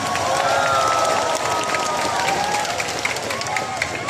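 Large crowd shouting and cheering at a rally, a dense, continuous roar of many voices that stays loud and steady throughout, with scattered applause-like bursts.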